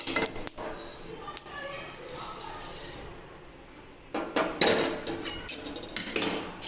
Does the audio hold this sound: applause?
no